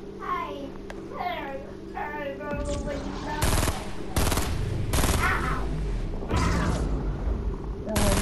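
Rapid bursts of gunfire ring out as one player shoots another in a video game, loud and continuous in the second half, after an opening of excited talk.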